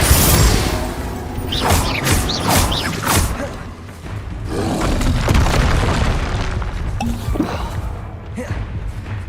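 Confringo fire spell blasts in Hogwarts Legacy combat, with repeated booming impacts and crackling bursts layered amid busy battle effects and brief voices.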